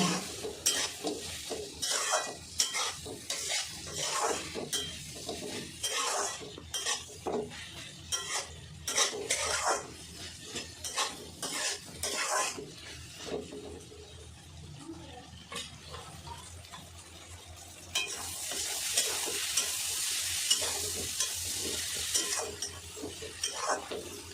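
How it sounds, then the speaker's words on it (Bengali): Onions stirring and sizzling in a pan as they fry until browned, for a bottle gourd and prawn curry; a spatula scrapes and clinks against the pan in steady bursts, and the frying hiss swells loudly near the end, with no talk. "পেঁয়াজটা লাল করে ভেজে নিয়েছি"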